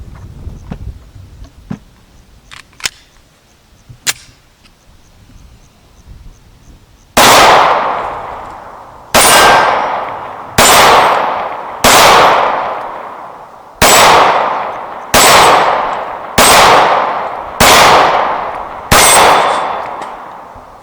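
A CZ 75 D Compact 9mm pistol, the Police Czech Republic model, fires nine loud, close shots at a steady, unhurried pace after a quiet stretch of small handling clicks. Each crack rings out into a short decaying tail.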